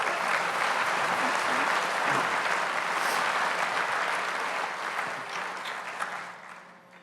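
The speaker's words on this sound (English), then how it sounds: "Let's give them a big round of applause." Dense applause fills the room at a chamber of commerce annual dinner, a crowd clapping steadily and fairly loud for several seconds before gradually thinning and fading out.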